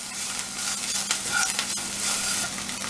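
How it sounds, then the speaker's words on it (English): Green chilies sizzle and fry in a pan, a steady loud hiss with light stirring scrapes throughout, no voices. "Adding this green chili."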